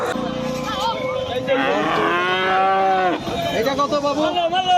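A cow moos loudly in a long, drawn-out call, with a second lower moo following, close to the microphone amid a busy outdoor cattle market.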